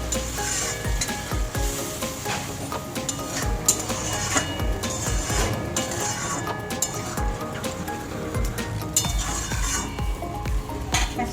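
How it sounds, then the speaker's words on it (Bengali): Spice masala for a Bengali parshe fish jhal fries in a pan as water goes in, giving a steady close sizzle threaded with metal spatula scrapes and light clinks against the pan. "এবার একটু জল দেবো"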